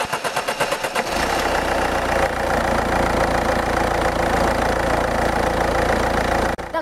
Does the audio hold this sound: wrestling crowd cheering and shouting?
no